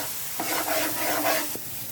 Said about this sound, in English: we'll stir it till the oil separates from the mixture